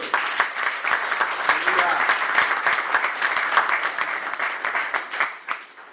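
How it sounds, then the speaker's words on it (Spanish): A church congregation at a conference session claps, dense, fairly close applause with individual sharp claps standing out, gradually thinning toward the end, with voices underneath. "Dele palmas de aplauso al Rey querido."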